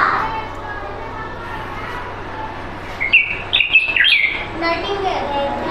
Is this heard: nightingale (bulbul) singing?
yes